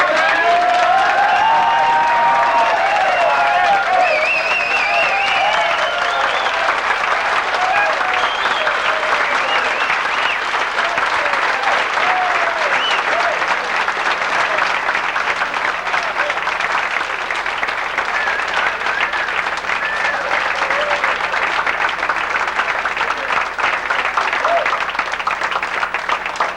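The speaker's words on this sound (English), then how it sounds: "stand up while we give you a round of applause" Sustained, loud audience applause fills a 1988 PGI convention hall, a dense steady roar of many hands clapping that holds throughout with faint voices mixed in.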